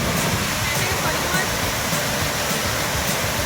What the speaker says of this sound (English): Here we are, right here at the base of the waterfall.